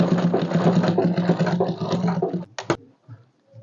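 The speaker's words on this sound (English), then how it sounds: "So I will just sew this place just to hold it in place" A sewing machine stitches ball gown fabric to tack a pleat in place, giving a steady close mechanical whir for about two and a half seconds before stopping with a couple of sharp clicks, then near silence.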